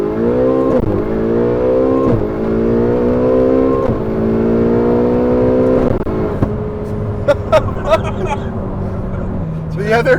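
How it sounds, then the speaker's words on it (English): Modified Ferrari turbo engine revving hard through gear changes, rising harmonic tones repeatedly climbing then dropping at each shift, with a lower steady drone later and faint spooling whooshes on downshifts; loud and close, with voices talking over it. "Even on the downshifts, you hear the turbo spool a little bit."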